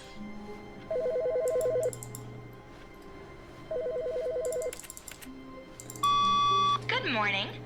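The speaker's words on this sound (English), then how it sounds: "Phone!" A desk phone in The Stanley Parable Ultra Deluxe rings in two short electronic bursts, followed by other beeping tones and a brief voice near the end.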